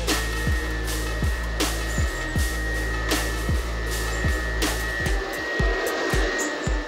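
A kitchen stand mixer whips egg whites in a steady loud motor whir with a rhythmic repeating thump from the beater, continuous throughout, with faint background clatter.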